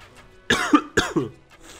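Two sharp coughs in quick succession at close range, each a harsh burst with a short throaty tail, alone against faint background noise.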